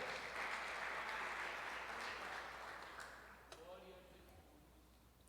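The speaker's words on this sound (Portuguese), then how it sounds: "Você pode aplaudir ao Senhor Jesus, a Ele toda a honra." A church congregation claps together in praise during a service, the broad applause strong at first and gradually fading, with a voice starting to speak as it dies away.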